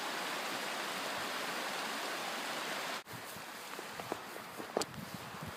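Shallow river at a trail crossing on the Cape Wrath Trail, giving a steady broadband rush of flowing water throughout, with a brief dip midway and faint scattered splashes or footsteps afterward.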